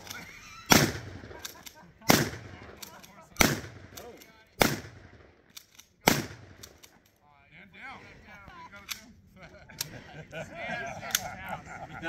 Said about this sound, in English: That's shotgun.